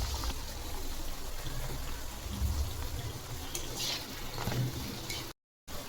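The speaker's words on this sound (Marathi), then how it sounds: "त्यामध्ये आपण हे आपले स्नॅक्स कट केलेले हे या तेलात सोडू. आपल्याला हे स्नॅक्स आपले कमी गॅसवरच तळून घ्यायचे आहेत." Cut snacks frying in hot oil over a low flame give a faint, steady bubbling hiss throughout, with no voices over it.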